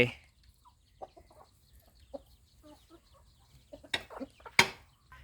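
Scattered soft clucks from chickens, fairly quiet and irregular, with a couple of sharper, louder squawks near the end.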